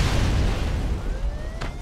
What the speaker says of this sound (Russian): Там взрыв произошел.